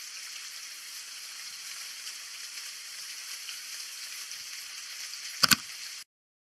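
Steady rain makes an even, close hiss with no variation, broken only by a couple of sharp clicks just before it cuts off.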